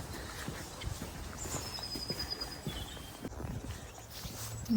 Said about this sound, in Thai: นี่เลี้ยงม้าจอย